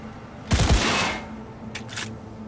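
A sharp burst of video game gunfire from Cyberpunk 2077 rings out with a brief rumbling tail, followed by a couple of quick, lighter clicks.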